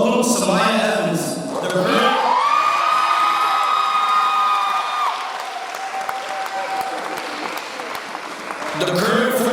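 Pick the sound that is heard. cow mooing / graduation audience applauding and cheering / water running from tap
graduation audience applauding and cheering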